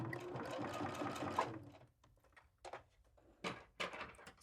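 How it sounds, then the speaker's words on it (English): An embroidery sewing machine stitches a quarter-inch seam along a drawn sew line on fabric, first a steady close run of rapid stitching, then several short separate bursts. "I'm going to sew directly on that sew line that the Memento drew for me"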